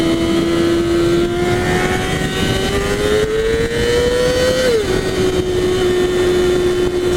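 A 2014 Yamaha R6 motorcycle engine holds a steady high whine while riding, rising slightly in pitch before dropping back, beneath constant loud wind rush.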